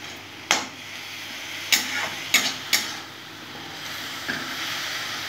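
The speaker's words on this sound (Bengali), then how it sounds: "আবার নাড়িয়ে নেবো।" Radish greens (mulo saag) fry in a pan under a steady sizzle, with several sharp scraping strokes of stirring spaced across the clip, close and fairly loud.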